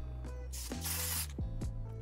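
Spray can hissing in the survival video game Rust, loud bursts of aerosol spray separated by short mechanical clicks and rattles, with no voices.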